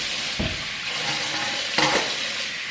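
Dinner plates being washed in a kitchen sink, with a steady hiss of running water and a couple of sharp clinks of dishes knocking together close by.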